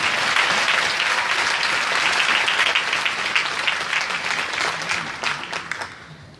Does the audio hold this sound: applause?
yes